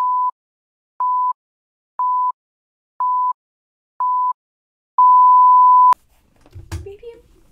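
Five short, evenly spaced electronic beeps at one-second intervals, then a longer final beep, followed by a brief thump and faint voice.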